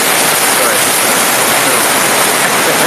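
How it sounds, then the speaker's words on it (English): A thunderstorm sound effect plays as a loud, constant broadband rush, like pouring rain or a flushing toilet, filling the whole stretch without a break. "That's supposed to sound like a thunderstorm, but it sounds like I'm flushing the toilet."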